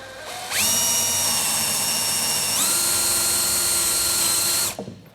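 A power drill with a Forstner flat-bottom bit cuts a recess into a rustic live edge wood coffee table, a steady loud whine held for about four seconds with a pitch step midway, then spinning down.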